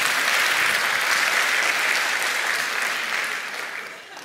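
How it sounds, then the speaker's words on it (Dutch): Sustained audience applause at a business product pitch event fills the room steadily, then tapers gradually toward the end. "Ongelooflijk applaus."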